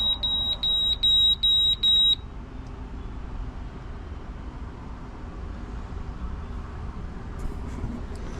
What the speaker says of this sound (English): Is that because I set the alarm at 0?